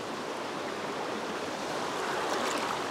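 Water poured over pork blood sausages (morcillas) frying in a pan gives a steady, close hissing rush that holds for the whole stretch with no voices.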